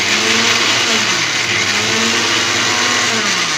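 A mixer grinder grinds garlic and curry leaves into rasam powder in a home kitchen, giving a loud, steady whirring roar that holds without a break from start to finish, with no talking.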